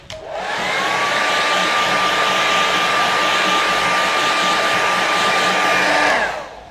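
A hair dryer blows to dry watercolour paint on paper, switching on with a rising whine, holding a steady loud airy roar with a tonal hum for about six seconds, then cutting off.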